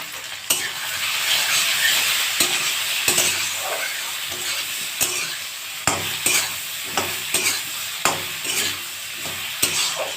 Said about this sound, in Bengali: হালকাভাবে নেড়ে নেবো